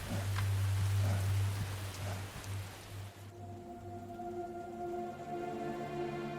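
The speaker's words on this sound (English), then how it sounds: "East Africa's long rains start in April and continue to the end of May." Rain falling across the East African savannah, a steady diffuse patter that fills the scene, giving way partway through to a quieter, thinner wash with faint tonal sounds in the background.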